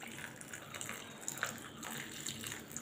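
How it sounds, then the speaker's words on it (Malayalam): Freshly boiled water is poured onto washed dried piriyan chillies, giving a soft, close trickle and splash that stays faint throughout. "ഇതിലേക്ക് ലേശം തിളപ്പിച്ച വെള്ളം ഒഴിച്ചിട്ട് അടച്ചു വയ്ക്കും"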